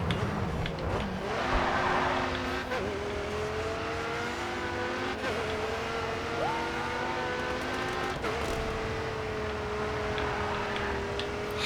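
Race car engines in GRID 2 rev and accelerate through gear changes, rising whining tones that drop at each upshift, with other cars close by and tire noise under the steady, loud engine drone.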